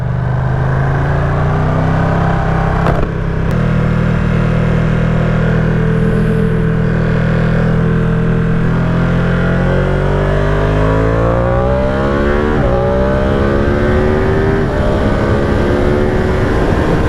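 Ducati Streetfighter V2 motorcycle accelerating hard, the twin-cylinder engine rising in pitch through the gears with a sharp break at a quick shift, loud and close, a continuous rising roar with no talking.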